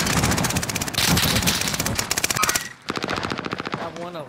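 Rapid automatic gunfire in Call of Duty: Modern Warfare, a loud, dense burst of repeated shots that pauses briefly and resumes, with a voice speaking over parts of it.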